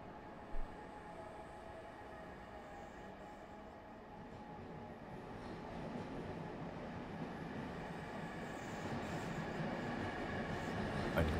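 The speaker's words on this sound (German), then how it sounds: "Ein Regionalexpress geschoben von einer Baureihe 218." Regional express train pushed by a class 218 diesel locomotive in the Train Simulator game, a steady rumbling rail drone that slowly grows louder and fuller over several seconds, with no break.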